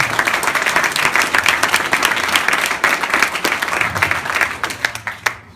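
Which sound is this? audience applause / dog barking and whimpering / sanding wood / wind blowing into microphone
audience applause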